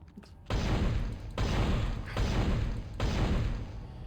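Gunfire in the Dead Space Demake video game: a run of heavy, booming shots in roughly three or four sustained bursts, loud and close, with no talking.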